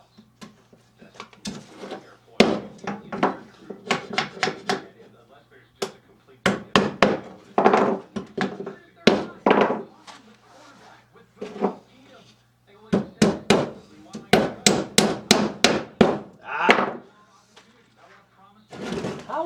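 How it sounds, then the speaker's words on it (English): Nails are hammered into wood while a beehive feeder box is built, giving repeated sharp close blows in irregular bursts of several strikes separated by short pauses. "I'm just trying to avoid nailing it in knots because you're not going to do it."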